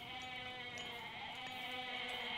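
A goat bleats in the Age of Mythology video game, a steady wavering animal call held across the whole short stretch at moderate level, with no talk.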